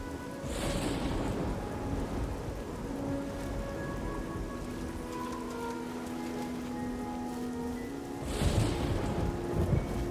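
Steady rain falls in Oblivion at night, with a soft rumble of thunder at the start and another near the end, no voices.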